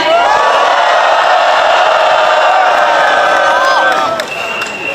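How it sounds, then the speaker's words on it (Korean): A large crowd at a political rally calling for Yoon Suk-yeol's arrest roars with loud cheers, shouts and whoops before a singer's performance, a sustained wall of voices that eases slightly near the end. "여러분의 큰 박수와 함성 부탁드립니다"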